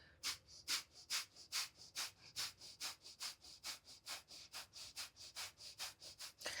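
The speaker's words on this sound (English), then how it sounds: "It's strong through the nose and through the belly. It's passive inhale, sharp exhale." Rapid rhythmic nasal breathing during a Pilates breathing exercise: about twenty sharp, forceful exhales through the nose, each followed by a soft passive inhale, steady and close with no talking.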